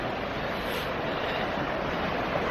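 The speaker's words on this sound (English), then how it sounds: "the waves seem to be getting bigger" Sea waves break against a rocky shoreline in a steady, dense roar, with some wind mixed in and no voices heard.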